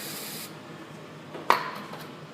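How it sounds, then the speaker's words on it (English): A short hiss of rust penetrant aerosol spray on a Ford Super Duty front hub, close and fairly quiet, followed by a small metallic tap in a quiet room. "start spraying this area with rust penetrant"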